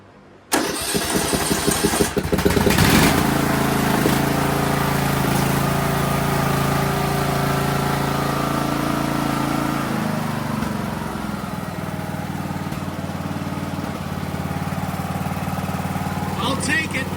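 A Craftsman DLT 3000 lawn tractor engine cranks and catches, then settles into a steady, loud, close idle that continues for the rest of the stretch, its tone dropping slightly partway through.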